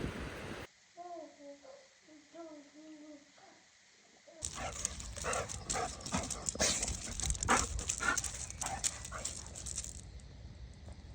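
A dog whines in a few soft, high, wavering whimpers in a quiet room, then loud clattering and scraping noise from a cattle barn during calving takes over.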